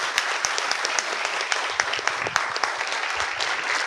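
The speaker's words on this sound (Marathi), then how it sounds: "दोघांसाठी जोरदार टाळ्या" An audience clapping for two people at a live stage comedy interaction show, dense steady applause from a room full of people with sharp individual claps standing out, moderately loud and continuous.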